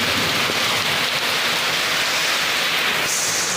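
Steady heavy rain pouring down, a dense unbroken hiss of drops with no voices.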